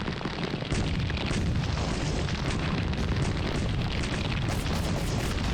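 Continuous dense rumbling explosions from a grenade launcher in the video game Drake of the 99 Dragons, loud, close and unbroken, forming a steady roar of blasts.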